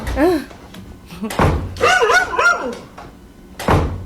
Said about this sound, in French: quelqu'un qui saccage une porte en bas. Oui. Qui cogne, qui ouvre et qui ferme la poignée comme ça.